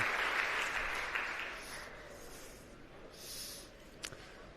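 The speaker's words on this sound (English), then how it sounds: "Give him a round of applause." Applause from a conference audience greeting a speaker, strongest at the start and fading to a thinner patter, with a brief knock near the end.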